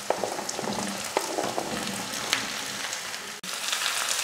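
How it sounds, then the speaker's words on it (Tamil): Onions and chana dal sauté in a pan for a Tamil Pongal feast, giving a steady close sizzle with a few brief stirring scrapes and no talking. "இந்த அளவுக்கு வெங்காயம் வதங்கினா போதும்."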